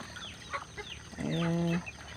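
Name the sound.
domestic ducks and chickens in a backyard coop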